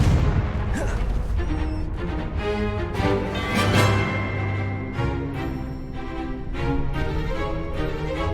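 A fiery Confringo spell blast in Hogwarts Legacy bursts loudly amid dense game music and layered booming impacts, with a strong hit around the middle of the stretch.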